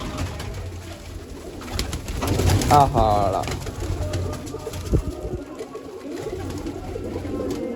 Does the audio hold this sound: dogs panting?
no